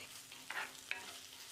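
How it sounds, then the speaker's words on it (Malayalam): Pasta being stirred through sauce with a little butter in a pan, a soft scraping sizzle with two brief louder scrapes near the middle, close and quiet, no talking. "എന്നിട്ട് 1 മിനിറ്റ് ഒന്ന് നല്ലോണം മിക്സ് ചെയ്ത് കൊടുക്കുകയാണ്"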